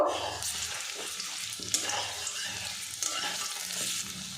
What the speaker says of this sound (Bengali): দুটো ব্যাচে আমি বড়াগুলো ভেজে নেব।